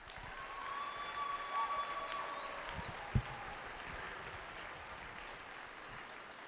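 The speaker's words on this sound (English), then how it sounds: "you should all give yourselves a nice big round of applause for everything you've done" Crowd applause at the opening ceremonies of a FIRST Robotics Competition district event in Mount Vernon, a faint, distant wash of clapping in a large hall with a few soft tones and one sharp thump partway through.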